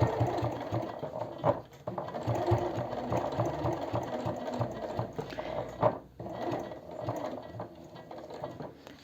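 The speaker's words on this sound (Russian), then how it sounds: "Ставим закрепку и строчим точно так же с другой стороны." A sewing machine runs stitch by stitch along a leather zip wallet, producing a rapid mechanical clatter in short bursts with a brief pause partway through, moderately close.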